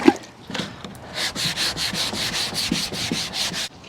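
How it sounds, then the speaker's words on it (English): Wet sandpaper with a little soap rubs over a Gheenoe 13 boat hull in quick, even back-and-forth strokes, a close, soft rasping rhythm with no talk. "I'm gonna try to keep the sandpaper as flat as possible."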